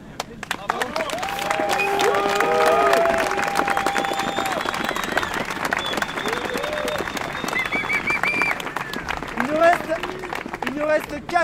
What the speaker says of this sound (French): mais de vous applaudir d'abord vous